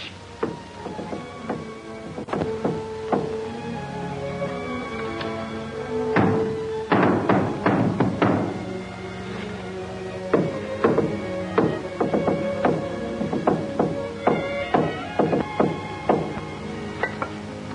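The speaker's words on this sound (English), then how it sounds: "That's our old secret code, Mike." Repeated sharp knocks and thuds tapped in a rhythmic secret code from someone trapped under wreckage, arriving in irregular clusters of quick taps over about eighteen seconds, fairly close and clear with no talk.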